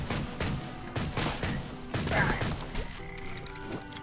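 Arquebus shots in the mobile game Swamp Attack 2, a rapid run of sharp bangs and crashes in the first half, spaced roughly every half second over dense game noise, thinning out toward the end.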